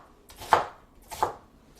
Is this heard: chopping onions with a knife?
yes